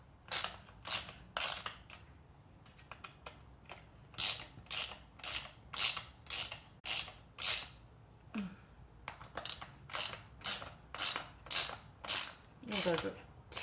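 Ratchet tightening plastic-mounted bolts on a BMW E90 328i DMTL pump, a series of rapid clicking bursts in regular strokes with short pauses between, close and crisp.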